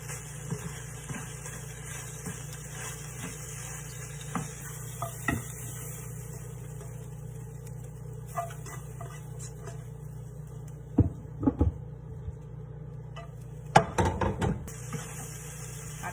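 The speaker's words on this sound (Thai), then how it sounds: "เคากระทะให้ดังเข้าไว้ก่อนค่ะ" A faint cooking hum, broken by a handful of sharp metal knocks from a spatula against a wok while stir-frying, clustered toward the end.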